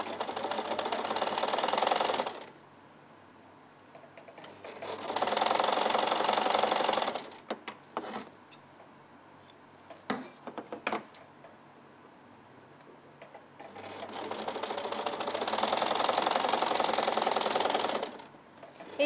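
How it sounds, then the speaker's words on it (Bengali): A small domestic sewing machine stitches synthetic fabric for a baby frock in three long steady whirring runs, separated by pauses filled with clicks and fabric handling. "এটা আমাদের ছোট মেশিন, তাই একটু টানতে হচ্ছে।"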